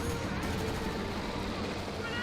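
A 120mm mortar barrage in Company of Heroes 2 rumbles and crackles as a dense, continuous wash of explosions, loud and sustained throughout, with faint commentary underneath.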